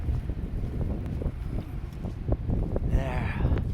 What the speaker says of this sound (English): Let's see if we can get a little less wind.